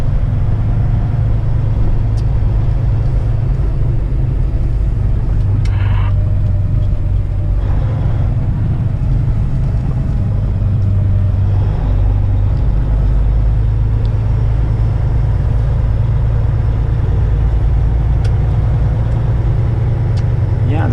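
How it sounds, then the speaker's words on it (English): Steady low engine rumble of idling trucks across a large, full truck stop parking lot during a snowstorm in Ohio, continuous and fairly loud throughout with a few faint higher clicks and a voice occasionally speaking over it. "it's a huge truck stop, right? Lots of parking here."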